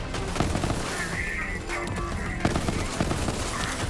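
Burst-fire corrosive Hornet pistol gunfire in the video game Borderlands 3, rapid repeated shots in short bursts with explosive booms, steady and loud throughout.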